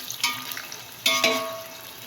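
Onions frying in a pot for mutton aloo salan, a soft steady sizzle with a couple of louder stirring bursts near the start and middle.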